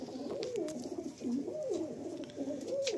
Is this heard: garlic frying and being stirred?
no